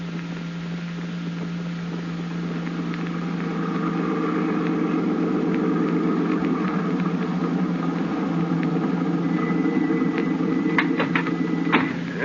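Steady car engine hum with a constant droning tone for a classic radio drama effect, continuous and even with faint clicks and rattles near the end.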